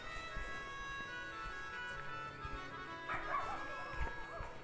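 Dogs bark and yip intermittently at a moderate distance outdoors near a Kashmiri hillside shrine, with several sharp barks clustering near the middle over a busy background of other sounds.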